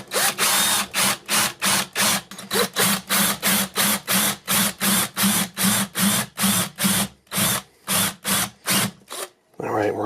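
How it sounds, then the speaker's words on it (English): A power drill with a 1/4-inch bit bores into the center of a silver coin in rapid, evenly spaced bursts, about twenty loud close whirring pulses in quick succession. "try to drill out just the center of this."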